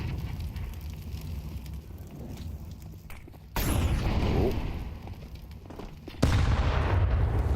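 A grenade goes off in a Counter-Strike professional match at BLAST Premier Open London, two sudden loud booming bursts over a busy background of game noise and distant gunfire.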